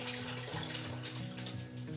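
Beef broth from a container or cans pours into a slow cooker with a soft, continuous splashing trickle, fairly quiet and steady throughout.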